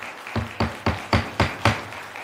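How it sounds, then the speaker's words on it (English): Audience applause at a Putnam County Board of County Commissioners meeting: a burst of about six loud, evenly spaced claps ringing in a large room, with no talking over it. "You can do all the standing, clapping."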